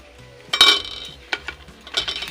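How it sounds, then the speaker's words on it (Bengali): A spoon stirs crushed biscuit mixture for langcha in a pot, making three short scraping clinks against the metal with quiet gaps between them. "এরকম মিশিয়ে যখন চালিয়ে নিতে হবে"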